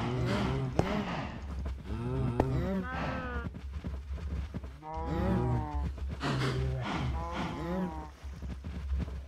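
Cows in the video game Minecraft moo repeatedly on an automatic cow farm. The low, drawn-out calls come one after another with short gaps, fairly close, over a steady low hum.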